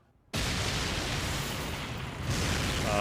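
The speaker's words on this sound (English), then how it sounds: "Explosions?" After a brief hush, a loud anime explosion from My Hero Academia bursts in and keeps roaring as a continuous rumbling blast.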